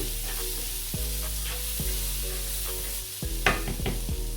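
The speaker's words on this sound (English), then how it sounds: "It doesn't take time, just stir fry for like 3 to 5 minutes, guys." Beef fried rice ingredients seasoned with curry powder stir-fry in a hot pan, a steady close sizzle broken by several sharp spatula knocks and scrapes against the pan.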